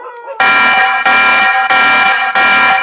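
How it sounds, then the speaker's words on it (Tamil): A CCTV security alarm at a house rings loudly. It blares in shrill, buzzing bursts that repeat in an even rhythm with tiny breaks between them, close and loud, alone after a brief quieter lead-in. "அந்த வீட்டை பக்கத்துல வரும்போது அந்த சிசிடிவியோட அலாரம் அடிக்குது."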